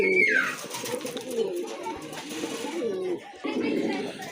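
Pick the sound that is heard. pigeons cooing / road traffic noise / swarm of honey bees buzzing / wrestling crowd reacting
pigeons cooing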